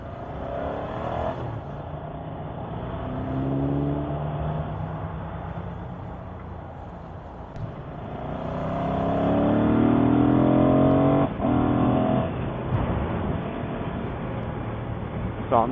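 A Ducati Monster motorcycle revving and pulling away through rising and falling engine tones, growing louder toward the middle, with a rushing wind-like roar around it and a voice partly over it.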